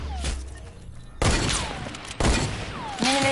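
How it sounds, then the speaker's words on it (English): Gunfire rings out in a sniper shootout video game: three sharp, loud shots spaced about a second apart, each trailing off into a reverberant tail. "I'm in the middle of a sniper shootout game."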